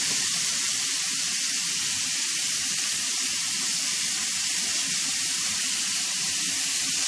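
Vinegar sizzles and evaporates in a hot pan, giving a steady, bright hiss and crackle that runs on without a break at moderate volume.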